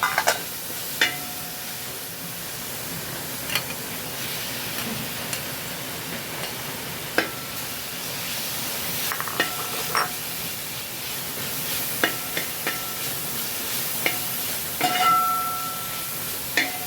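Dates dropped into pineapple cooking in a large pan with ghee, giving a soft sizzle and hiss with scattered scraping and clinking stirs, no talking.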